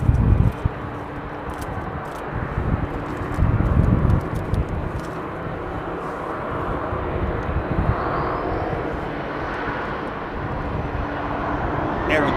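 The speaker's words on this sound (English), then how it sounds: "So we will hear a big whine as he powers the aircraft." A jet airliner at London Heathrow powers up its engines, a steady broad roar with a rising whine that holds throughout, heard from some distance with a few louder swells.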